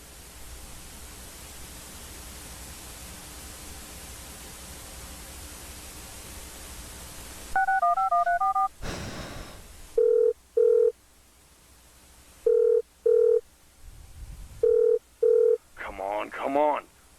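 A telephone call being placed: a burst of dialing tones, then repeated evenly spaced ringback tones with short gaps, loud and clear over a low hiss.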